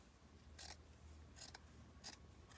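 Scissors cutting through sweater fabric, three short snipping strokes spaced about a second apart, quiet and close with a soft background hiss and no talking.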